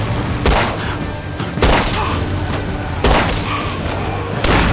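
Gunfire in a tense standoff scene from The Walking Dead TV series: four loud, booming bursts hit at roughly even intervals over a dense, steady background.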